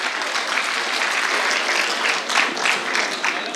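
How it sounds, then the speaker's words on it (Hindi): Audience applause at a mushaira poetry gathering in Delhi, a dense, steady clapping from a large crowd filling the whole stretch without a break. "जोरदार तालियों से उनका इस्तकबाल किया जाए।"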